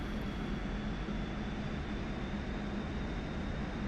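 A MiG-29 jet engine droning steadily after throttling back in a flight simulator game, a constant, moderately loud broadband roar with a faint high whine and no speech.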